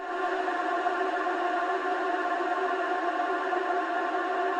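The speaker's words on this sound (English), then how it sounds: "Adding also a custom-made ambience pad, which sounds like this." A custom ambience pad made from a frozen reverb sample drones softly and steadily, an airy sustained wash with no attack or rhythm, heard alone.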